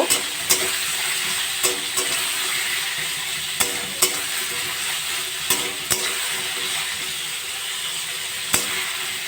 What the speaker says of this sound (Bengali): এবার গ্যাসের ফ্লেমটা বাড়িয়ে চাল কুমড়োগুলো ভালো করে ভেজে নেব